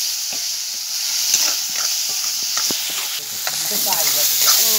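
Ridge gourd is stir-fried dry in a pan, with a constant hissing sizzle and repeated scraping stirs, ending in louder spluttering.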